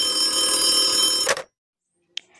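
An old-style telephone bell rings in a radio play sound effect, a loud continuous metallic trill that stops abruptly, followed by silence and a brief faint click.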